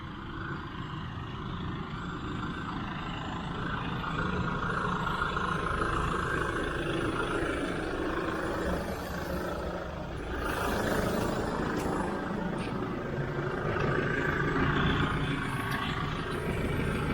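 A tractor drags an empty trailer during harvest work, its engine giving a steady, loud, strained roar throughout with no break.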